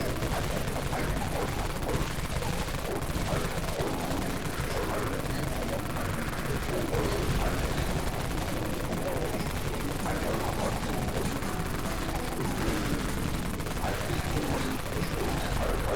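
Gunfire in the survival shooter Dead Frontier, set in the Deep Wastelands, runs as dense, continuous bursts for the whole stretch, loud and busy, with explosive rumble and in-game noise layered underneath.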